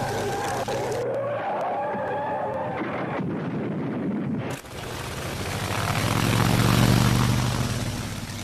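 A WWII carrier aircraft's engine roars through a go-around after a failed landing attempt, a broad loud rumble that swells toward the end, with a brief dip midway.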